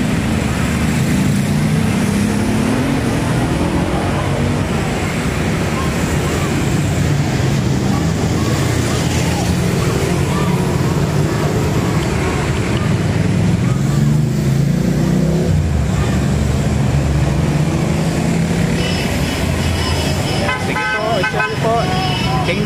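Car horns honk repeatedly amid heavy traffic on EDSA in the Philippines, with the tooting scattered over a steady road roar and people talking throughout.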